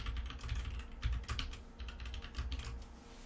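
A short burst of rapid, close keystrokes on a computer keyboard as a password is typed in, crisp and irregular clicks alone without talk.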